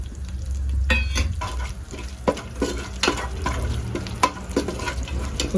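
Bay leaf, kasuri methi and cloves sizzle steadily in hot ghee for mutton pulao, with a constant frying hiss broken by clinks and scrapes of a stirring spoon against the pan.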